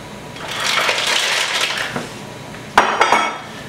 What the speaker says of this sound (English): So we're going to add first are the mussels and the clams.